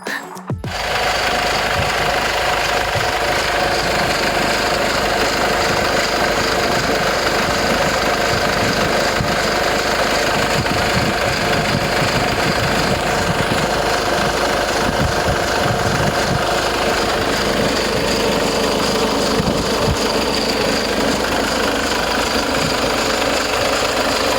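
A van engine idles close by for the whole stretch, a continuous mechanical drone with a fast, even knocking rhythm running through it from a stuck alternator clutch pulley.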